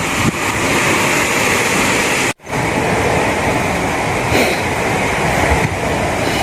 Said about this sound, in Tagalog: Narinig niyo guys ang alon.